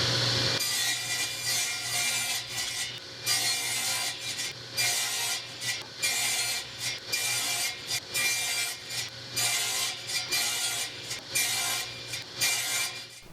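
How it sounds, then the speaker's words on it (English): Pieces of 3/4 inch OSB are sawn to 12 inches on a table saw using a miter gauge with a stop block. The sawing comes up close in repeated rasping strokes over about thirteen seconds, with no voices. "set up a stop block on my miter gauge, and cut those down to 12 inches"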